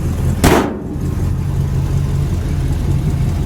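Engine of a 1956 Chevy 210 two-door sedan with stock manifolds and dual exhaust, running at a steady low idle rumble close by after a brief sharp burst of noise at the start.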